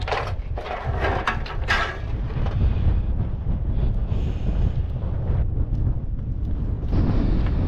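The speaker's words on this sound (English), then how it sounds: "it is blowing out here tonight" Strong night windstorm in Death Valley buffeting the microphone with steady roaring gusts and rumble, loud and close throughout, with a few rattling knocks early on.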